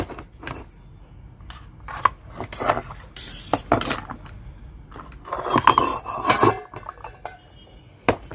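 Metal idli plates clinking and clattering as freshly steamed avalakki (poha) idli are taken out of the steamer, a run of close, sharp metallic knocks and rattles scattered across the clip with no talking.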